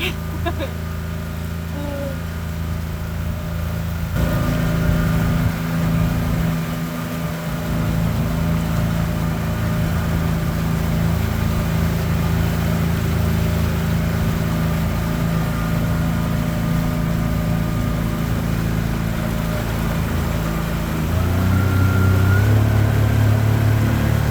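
A boat motor runs aboard a MacGregor 26M sailboat, giving a steady, fairly loud mechanical drone with low tonal hum. It holds constant throughout and swells louder near the end, with no clear talk over it.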